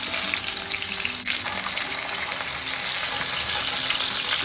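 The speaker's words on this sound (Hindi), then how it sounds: "अभी मैं डिनर भी एक इलिश माछ के साथ ही करूँगी। So इसको भी फ्राई करूँगी।" Hilsa fish frying in a pan with a loud, steady, close sizzle that hisses throughout, with a brief dip near the start.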